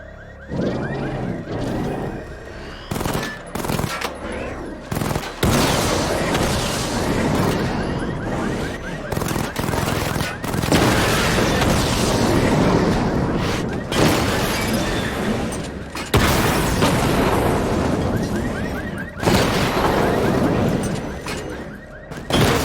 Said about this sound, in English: Charge up missile barrage to level 2 and destroy 4 active targets to complete diagnostic test.